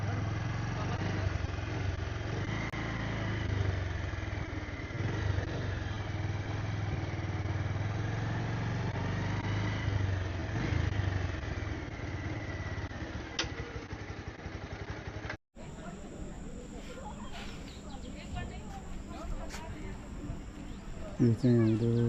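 A motorcycle engine idles steadily and close by beside the Rapti River in Sauraha, Chitwan, a low continuous rumble under talk, then after a short break the sound turns noisier and more varied.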